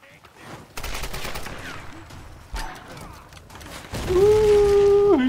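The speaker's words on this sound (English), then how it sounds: "who's shooting at me? You're shooting at me, aren't you?" Gunfire crackles in bursts during a combat sequence in Tomb Raider Definitive Edition, with loud rattling volleys and a sustained tonal effect near the end, while a player's voice breaks in between shots.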